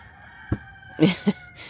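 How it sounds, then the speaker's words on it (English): Farmyard roosters and chickens call in short bursts: a brief squawk, then two quick clucking crow-like notes and a fainter one, fairly distant over quiet morning air. "Good morning from the chickens, roosters, and other fowl up there."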